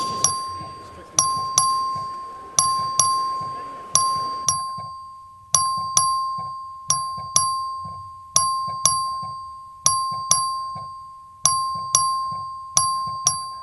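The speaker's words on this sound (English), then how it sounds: "Clerk, ring the bell." A House chamber vote bell rings repeatedly during a legislative vote, sharp metallic ding strikes about once a second with ringing decay and a steady tone beneath, loud and close with murmured talk early on.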